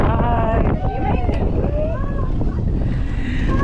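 Strong, steady wind roars across the microphone throughout during a rope car ride at Kailasgiri, Visakhapatnam, with a voice speaking over the rushing gusts.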